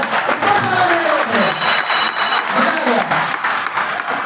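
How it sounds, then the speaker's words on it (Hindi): Audience at a motivational business seminar applauding loudly, a dense continuous roar of many hands with some crowd noise and a voice cutting through at times. "नए लोग कितने, जोरदार ताली मारो यार"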